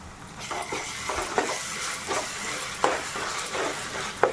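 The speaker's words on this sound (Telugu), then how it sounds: "మనం మిక్సీ పట్టుకున్న ఈ మసాలాను వేసి" Ground masala sizzles in oil in a pan with softened onions and green chillies, for a country-chicken curry; a steady frying hiss is broken by repeated scraping stirs and a few sharp clinks of the spoon on the pan.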